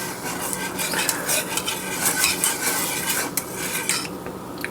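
Egg custard pie filling being stirred briskly in a bowl until frothy, a steady scraping swish with light clinks of utensil against the dish, close and continuous with no talking.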